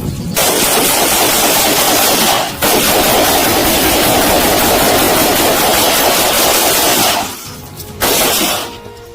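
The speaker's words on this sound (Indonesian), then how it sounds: "Merangkak dan diberondong peluru asli." Live rounds are fired over recruits in an Indonesian military crawling drill: long, dense bursts of rapid gunfire roar loudly, broken by a few brief pauses, with no clear voices.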